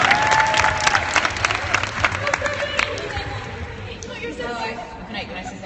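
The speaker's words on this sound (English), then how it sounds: "Give yourselves a round of applause." Convention panel audience at New York Comic Con applauding, a dense burst of clapping with some cheering and crowd chatter that thins out and fades over several seconds.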